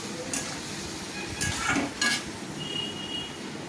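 Onions and masala being stirred in a pan while cooking a Bengali lote fish curry, a soft scraping stir with faint sizzling and a few clinks of the spoon against the pan, fairly quiet and steady.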